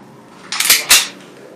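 Two sharp gunshots in quick succession from a gun being test-fired, close and loud, the second following the first by about a third of a second.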